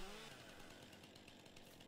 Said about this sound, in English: Just turn the chainsaw like this.